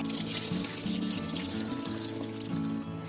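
Rinse water poured off soaked bajra (pearl millet) grains in a home kitchen, a close, continuous rushing flow like a running tap, steady and loud for the whole stretch.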